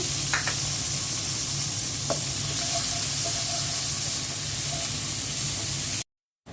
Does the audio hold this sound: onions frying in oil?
yes